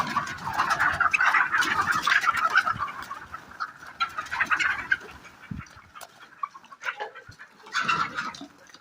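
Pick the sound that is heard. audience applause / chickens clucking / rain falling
chickens clucking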